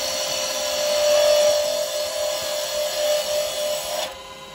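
A carbide cutter shaving wood on a spinning lathe gives a steady, close rasping whine with a high ringing tone that cuts off abruptly near the end, with no one talking.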